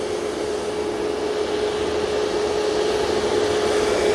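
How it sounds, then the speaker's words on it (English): A Ryanair Boeing 737 MAX 8 sits lined up for takeoff at Manchester Airport, its jet engines giving a loud, steady roar and high whine that holds constant throughout. "737 MAX 8 all lined up ready to go"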